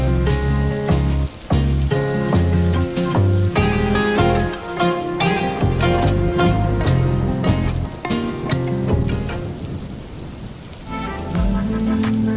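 Rain falling on a road: loud, dense, continuous wash of drops hitting the surface for the whole stretch, with a brief dip near the end and no voices.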